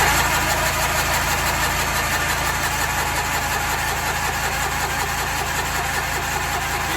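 A Massey Ferguson 205-4 compact tractor engine cranking over in a garage makes a steady, loud, continuous mechanical churn with an even rumble throughout and no voices.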